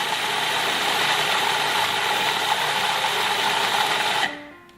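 A blender grinding lime juice and salt, a steady loud motor whir holding evenly for about four seconds before spinning down and stopping.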